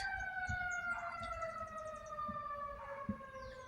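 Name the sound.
siren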